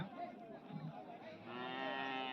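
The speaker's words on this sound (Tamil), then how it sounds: "இப்போ நீங்கள் பார்க்குறது இது தலையீர்த்து மாடு" A first-calf Holstein Friesian cow at a cattle sale moos in one long, loud call that rises and holds steady toward the end, close by, with faint background noise and no talk.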